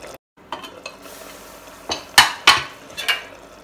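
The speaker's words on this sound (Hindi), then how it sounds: "बीच बीच में इसे चलाते रहें फ्लेम को मीडियम ही रखना है" A spoon stirs ridge gourd and onion frying in a pan over a medium flame, giving a few sharp metallic scrapes and clinks against the pan over a faint background sizzle.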